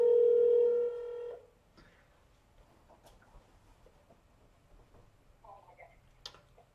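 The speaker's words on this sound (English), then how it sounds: "You get an actual ringing sound." A telephone ringing tone sounds at the start, a loud steady multi-harmonic tone lasting about a second, then cuts off into quiet room noise with faint clicks and rustles.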